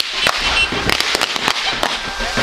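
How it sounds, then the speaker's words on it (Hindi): Firecrackers burst in a rapid, irregular string of sharp, loud cracks during a hillside wedding trip in Uttarakhand, with brief pauses between pops and some background voices. "पटाखे"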